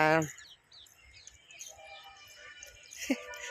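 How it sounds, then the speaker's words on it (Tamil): Sparrows and green parakeets chirp and twitter in scattered bursts during a morning walk, with a sharper call near the start and another near the end, fairly close against a quiet outdoor background. "குருவிகள் சத்தம், பச்சை கிளியோட சத்தம் அது பாருங்க."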